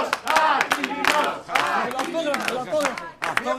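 A small group greets a returning hero at a family gathering with excited cheering shouts and scattered hand claps, voices loud and overlapping throughout, close by.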